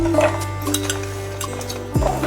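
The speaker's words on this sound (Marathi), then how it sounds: "आता आपलं सुकं खोबरं त्यामध्ये भाजून घ्यायचं आहे" Dry coconut roasting in a little oil in a pan: close metallic scrapes and clinks of a spatula against the pan over a faint, low sizzle, ending in a sharper scrape.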